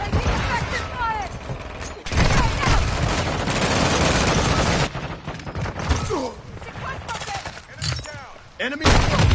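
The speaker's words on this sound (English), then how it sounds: "Taking effective fire!" Gunfire in a Modern Warfare 2 battle, with bursts of automatic weapon fire and mechanical clatter, loud and close, broken by brief pauses, while soldiers' shouted voice lines sit under the shooting.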